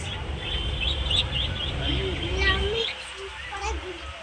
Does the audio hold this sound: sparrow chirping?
yes